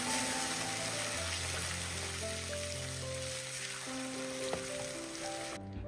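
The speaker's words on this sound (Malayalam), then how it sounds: "അത് മുഴുവനും അങ്ങ് ഇതിലേക്ക് ചേർത്ത് കൊടുക്കാം. ഇനി ഒന്ന് ഇളക്കി കൊടുക്കാം." Ground onion paste frying and being stirred in a pan, a soft steady sizzle with faint tonal hum underneath, quiet and close, no voices.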